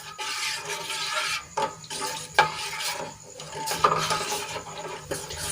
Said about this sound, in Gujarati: આ રીતે આપણે ચમચા વડે દૂધને હલાવતા રહેશું